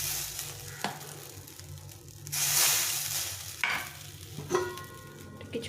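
Semolina batter for soft chitoi pitha sizzles in a hot greased pan, a steady frying hiss with a surge as the ladle of batter goes in, then clinks and light stirring noises.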